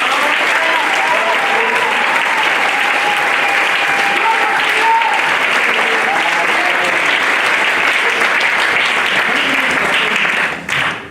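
Loud, sustained applause and cheering from a church congregation fill the whole stretch, a dense wash of clapping with scattered shouts that cuts off abruptly near the end.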